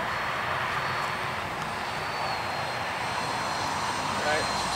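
A Freewing Mirage 2000 RC jet on its maiden flight gives a continuous, even ducted-fan roar that holds steady at a moderate distance with no break.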